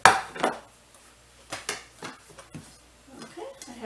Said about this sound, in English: Okay, I got another plate.